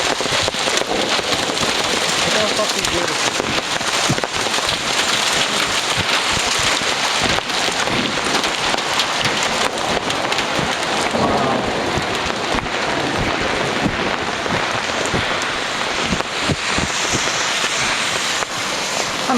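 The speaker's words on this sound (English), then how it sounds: "Ah, hail!" Heavy rain and hail pound steadily through a thunderstorm in Oslo, Norway, a dense, continuous hiss and patter close by for the whole stretch, with a voice briefly speaking over it.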